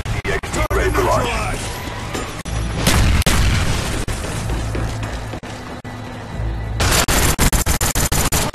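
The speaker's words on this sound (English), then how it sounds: "Throwing grenade!" Grenade blasts and gunfire in the video game Black Ops, with heavy booms and crackling shots, a big explosion near the three-second mark and another loud burst toward the end, amid dense battle noise and shouted voices.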